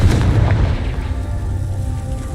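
A Confringo fire spell bursts in the game Hogwarts Legacy, a loud booming explosion at the start that rolls off into a rumbling, fading tail for a couple of seconds.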